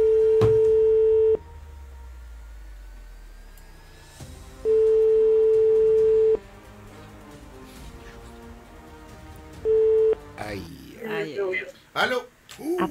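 A telephone ringback tone sounds in long steady bursts with silent gaps on an outgoing call, clear and loud, before a voice answers near the end.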